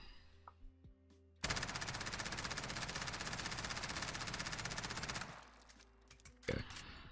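Automatic gunfire in a first-person shooter game: a sustained rapid burst of shots lasting about four seconds, loud and close, followed by quieter handling noise and one short extra burst near the end.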